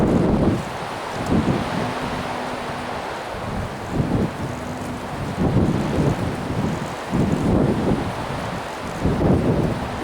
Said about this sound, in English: And the wind won't let up.